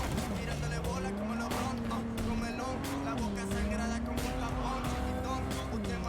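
In the video game Cyberpunk, a car engine hums steadily while tires squeal and the pitch shifts as it turns, with someone speaking over the driving noise.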